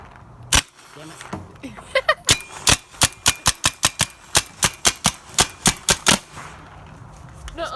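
Paintball gun firing a rapid string of sharp, loud pops, a couple of isolated shots first and then over a dozen in quick rhythmic succession, close to the microphone with faint voices around them.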